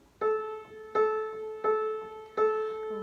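Four evenly spaced piano chords from the intro of a song, each struck softly and left to ring, quiet and alone without any voice.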